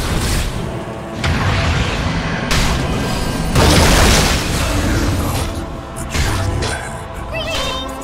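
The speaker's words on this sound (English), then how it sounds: "Radiant's bottom tower has fallen." Heavy booms and rumbling blasts from combat in Dota 2 as a tower is destroyed, several loud bursts in quick succession with a few sharp pops.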